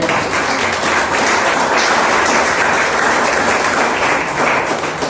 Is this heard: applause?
yes